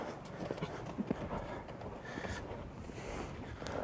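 Horse hooves cantering around a show jumping course, a steady muffled thudding rhythm of moderate loudness under a noisy outdoor background.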